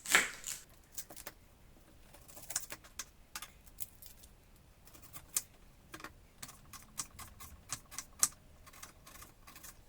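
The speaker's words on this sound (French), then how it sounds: "je vais essayer de les couper très finement." A knife thinly slices a red onion on a cutting board, making a quiet, irregular series of crisp taps and clicks with brief pauses between cuts.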